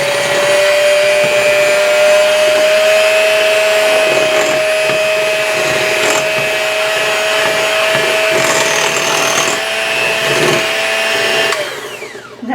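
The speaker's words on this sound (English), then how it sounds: "We're going to add our juice to our cupcake mix, and I'm going to mix it all up." An electric mixer whirs loudly and steadily through lemon juice and gluten-free, dairy-free cupcake batter, holding a sustained motor whine with faint clinks against the bowl. It winds down at the end.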